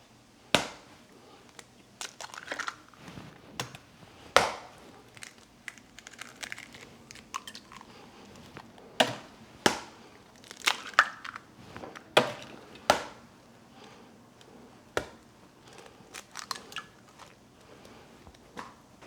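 Four eggs are cracked into a bowl for a quiche, heard as a string of sharp, close taps and crunches scattered irregularly over quiet kitchen background noise.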